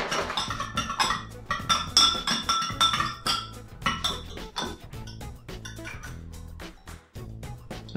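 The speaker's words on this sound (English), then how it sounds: "So we'll give it a bit of a stir to help the extraction process" A capsaicin chili zero-proof spirit infusion is stirred in a glass vessel: a rapid, uneven series of bright clinks and taps, close and clear, running throughout with no voices.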